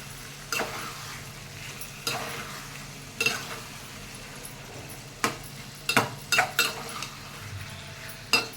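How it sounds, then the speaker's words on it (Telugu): A metal spoon scrapes and clinks against a pan while tomatoes are stirred into an Andhra-style egg masala curry, with irregular knocks and scrapes over a faint steady sizzle, close up and with no voices. "ఇప్పుడు ఇలా కలిపిస్తాం కదా మొత్తం."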